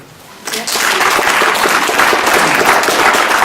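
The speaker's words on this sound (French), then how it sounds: "Je pense qu'on peut déjà bien les applaudir." Audience applause for trainees at a professional-training association's New Year ceremony, starting abruptly after a brief quiet and holding as a dense, steady wash of clapping close by.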